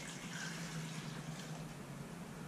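Water poured into a small coffee maker, a soft steady trickle running quietly and continuously for a couple of seconds with no talk.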